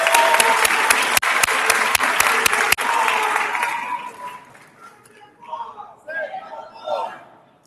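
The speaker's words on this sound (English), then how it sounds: "Let's give them a round of applause." A large audience at a national engineering society meeting claps in a loud, full round, with a few sharp slaps standing out early. The applause fades after a few seconds, leaving murmuring voices and light talk.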